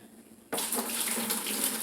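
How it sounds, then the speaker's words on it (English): Hot water, just below boiling, pours suddenly into a bucket for dyeing a vest, a loud, close, splashing rush that starts abruptly and keeps on steadily with no talk. "And I'm adding the water to my bucket."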